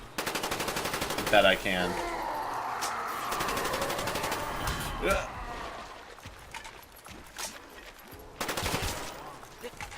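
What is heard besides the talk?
AK rifle gunfire in the video game Call of Duty Black Ops zombies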